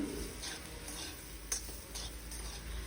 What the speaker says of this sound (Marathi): आणि हे आता परत एकदा छान असं मिक्स करूया